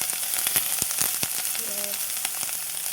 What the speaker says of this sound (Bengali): ভাতটা দিয়ে ডিমটা দিয়ে ফ্রাই করি